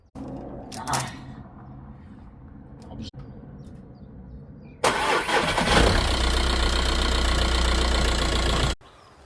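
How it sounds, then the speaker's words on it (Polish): A 20-year-old VW Passat B5 1.9 TDI diesel, jump-started from a Parkside 8 Ah tool battery with a length of wire, cranks briefly, then fires and settles into a loud, steady, close idle before cutting off. "Mój 20-letni Passat spokojnie odpalił"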